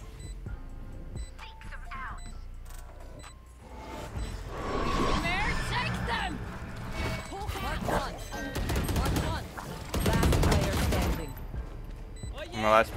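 Gunfire in the video game Valorant comes in repeated bursts and rapid volleys with sharp cracks, some loud and close, mixed with ability effects while a player talks over the action.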